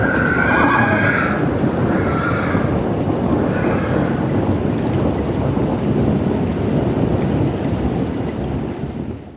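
Two horses snort and whinny in a highland glen, with loud, steady rain and rolling thunder rumbling underneath the whole time and no voices.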